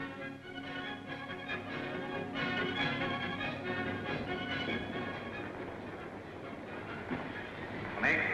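A train rolls along the rails at moderate volume with a continuous rumble and rhythmic clatter of wheels, steady throughout.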